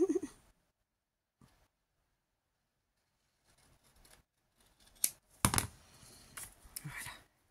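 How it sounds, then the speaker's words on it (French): Scissors snipping paper on both sides for a scrapbooking project: a few isolated quiet cuts, then a denser cluster of close, crisp snips near the end. "je vais couper des deux côtés"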